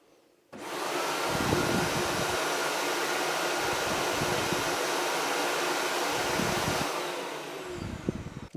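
A Dreame Z10 Station base kicks on to self-empty the vacuum's dust bin, a loud steady whooshing roar of suction that runs for several seconds before cutting off.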